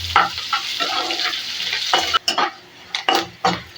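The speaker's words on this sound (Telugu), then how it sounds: "ఎర్రగడ్డ ఈ విధంగా వేగిన తర్వాత" Thinly sliced medium onions fry in oil while being stirred in a pan for a dal, with a steady close sizzle and a few scraping spatula strokes; the sizzle drops off briefly in short gaps between strokes.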